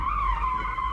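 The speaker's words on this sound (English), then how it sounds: "I countersteered and stopped the car facing the direction I want to exit." A car skids through a handbrake drift while countersteering, a loud continuous tire squeal with a steady howling tone and rumbling engine underneath, sustained for the whole second with no pauses.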